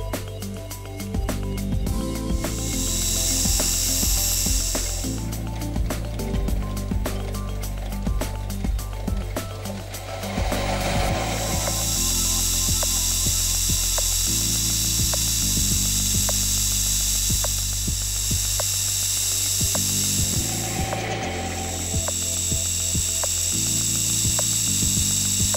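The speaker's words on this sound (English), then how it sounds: "The lathe change gears were set up to give the correct thread pitch for those timber screws, and then I set about forming the basic profile." Metal lathe cutting the basic thread profile of small timber screws for a clock in a home machine shop, heard as a steady, loud mechanical whir with a rhythmic ticking and rattle, continuing alone without talk.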